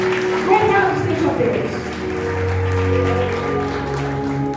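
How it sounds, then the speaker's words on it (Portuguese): Church congregation applauding during a Portuguese-language evangelical service, steady broadband clapping throughout with voices and sustained music tones underneath. "Aplauda o Senhor Jesus, que Ele é digno, irmãos"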